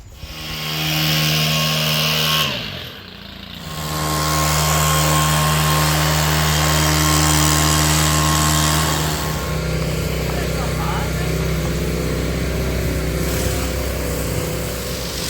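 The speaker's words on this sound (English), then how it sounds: "Like this power washer, I can start power washing now" Outdoors at a property, a power washer cleans a surface with a loud, continuous motor drone. It cuts out briefly, then resumes and holds steady, with some talking around it.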